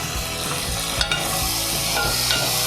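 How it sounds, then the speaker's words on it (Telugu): Curry leaves, onion, okra, tomato and green chillies fry in a pan with a steady, continuous sizzle, punctuated by a couple of brief stirring scrapes partway through. "అన్నీ కొంచెం సేపు వేగాలండి."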